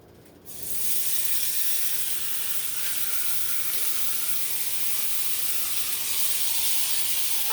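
Pork shoulder steaks land in a hot pan and burst into a loud, steady sizzling hiss that holds at the same level throughout.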